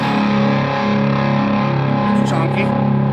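Electric guitar played through a Stomp Under Foot fuzz pedal with delay and a touch of reverb: thick, chunky sustained distorted chords ringing out with echoing tails, fading into a brief trailing wash at the end.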